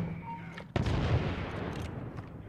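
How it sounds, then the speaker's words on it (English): A mortar bomb goes off in Assassin's Creed Unity, a single heavy blast that hits suddenly and loudly, then a thick rumbling roar that holds on and fades out slowly. A brief tone and low hum sit under it beforehand. "I really want to use this mortar bomb."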